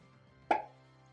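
The default "Pop" sound effect from Scratch plays once as a single short, bright plop that is close and clean, over a faint hum and otherwise quiet surroundings.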